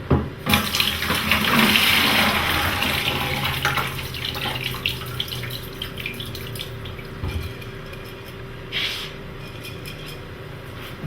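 Water from a kitchen tap runs steadily as sprouting seeds are drained beneath it, a close continuous splashing and trickling with no talk.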